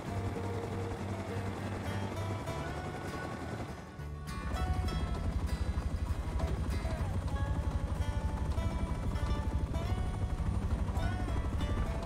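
A steady, droning helicopter rotor and engine in the survival game Rust, loud and continuous, with a brief dip before it swells and keeps running at a constant level.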